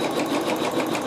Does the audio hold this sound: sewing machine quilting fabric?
yes